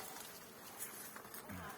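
Steady buzzing of honeybees in flight fills the air, a soft continuous drone with no voices.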